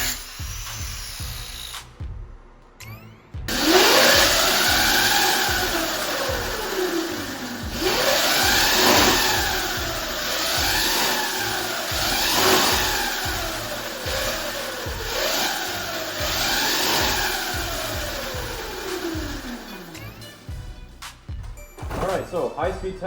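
A homemade go-kart engine, the kart fitted with winter tires, revs hard through a high-speed run, its loud whine climbing and falling in repeated sweeping arcs as it accelerates and eases off, with brief rough mechanical noise at the start and end.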